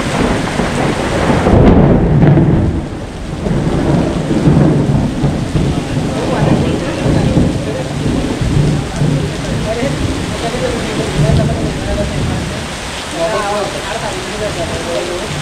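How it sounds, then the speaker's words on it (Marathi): Heavy rain pours steadily in a sudden downpour in the Konkan, with low rolling thunder rumbling through it; voices speak over the noise near the end. "जाम पाऊस पडला जाम"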